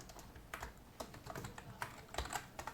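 Someone types a MySQL query on a computer keyboard, with quiet, irregular keystrokes spaced apart in a still room and no talking.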